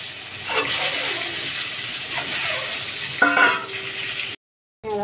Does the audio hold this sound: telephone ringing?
no